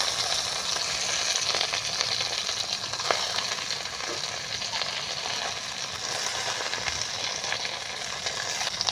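Washed, cut piring greens and vegetables dropped into hot oil, crackling and sizzling steadily and fairly loud at close range, with faint stirring and no voices.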